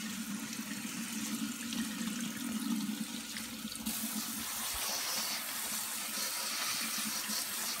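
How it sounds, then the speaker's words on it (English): Cold tap water runs steadily while beans are rinsed in a strainer, a close hissing splash that shifts brighter partway through as the flow hits the beans, with no talking. "You just turn your cold water on."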